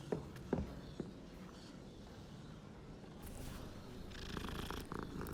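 A cat purrs in the video game Hogwarts Legacy, a soft continuous low rumble close by, with a few footstep-like thumps and some game ambience rising toward the end.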